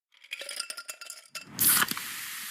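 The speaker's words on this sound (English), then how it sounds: "You hear that? That's the sound of Pepsi Zero Sugar." A Pepsi Zero Sugar cola is handled with a series of clinks and rattles, then a sharp hiss as it opens and a steady fizzing pour.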